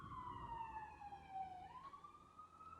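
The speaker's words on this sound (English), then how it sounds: "Do you hear that siren?" A siren wails in the distance, a faint, slowly falling and then rising tone, alone over a quiet background.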